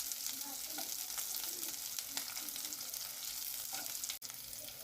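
Chopped capsicum stir-fried in a hot pan for a leftover-chapati breakfast gives a steady, close sizzle, with occasional soft scrapes and clicks of stirring and no one speaking.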